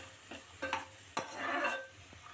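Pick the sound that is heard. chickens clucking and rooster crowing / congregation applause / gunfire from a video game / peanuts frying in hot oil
peanuts frying in hot oil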